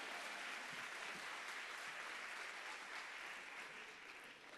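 A large union-congress audience applauds during a speech, dense sustained clapping that fills the whole stretch and eases slightly toward the end.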